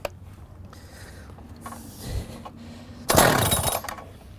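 An iQPC912 power cutter engine is pull-started with the decompression valve pushed in, giving a faint rattle of the cord pull followed by a short loud burst as the motor pops.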